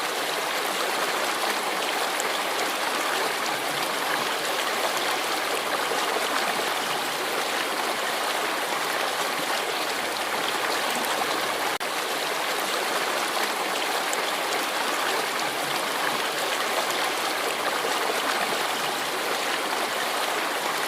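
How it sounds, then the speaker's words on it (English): Water pours steadily into a 40-gallon turtle tank during cleaning, a continuous rushing splash that stays even and loud throughout with no pauses. "I just like to make sure that I keep pouring water in the furthest end of the tank"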